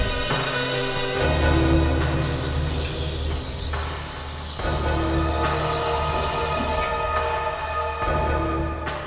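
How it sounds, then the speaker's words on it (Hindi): A steady, loud spray hisses onto an air-conditioning unit for about five seconds, under a low droning background. "जरा इस पे स्प्रे करना।"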